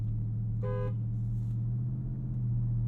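Horn on a Ford F-150 Raptor R pickup truck, a single short, car-like beep lasting under half a second over the steady low rumble of the idling engine.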